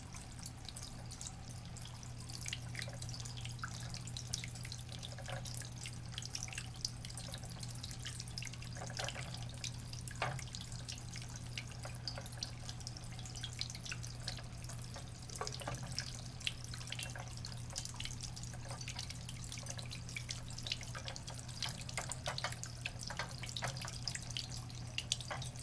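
A pump-driven garden fountain on its highest setting splashes continuously, with steady trickling and dripping water and scattered sharper splashes heard up close for the whole stretch, with no voices.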